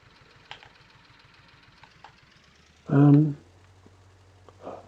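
A vehicle engine starting in Farming Simulator 19 on Xbox One: a loud, brief cranking burst after a stretch of faint clicks, then a low idle hum underneath, with someone talking at times.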